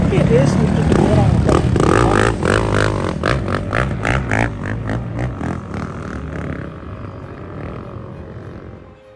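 Motorcycle engines rev and whine loudly up close as the bikes race up sand dunes, pitch rising and falling, then fade into the distance as people talk over the noise.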